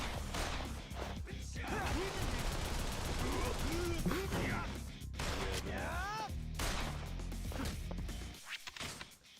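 Rapid gunfire echoes down a hallway in the video game Yakuza Kiwami 2, dense bursts of shots and impacts crackling loudly and almost continuously, with a brief lull midway before more firing.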